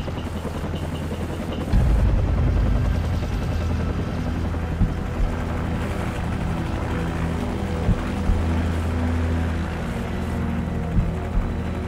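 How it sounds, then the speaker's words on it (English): A helicopter in the video game Call of Duty 4: Modern Warfare gives off a steady loud rotor and engine roar throughout, with a heavier low thump swelling in near the start. "Take out that helicopter."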